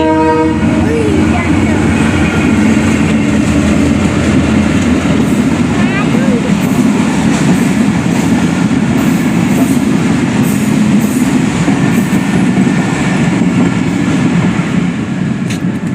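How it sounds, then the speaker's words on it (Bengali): A train passes close by, a loud, steady roar of rolling wheels and rail noise that fills the clip from start to finish, with faint horn-like tones early on. "কে দেখেছে? ট্রেন দেখেছে।"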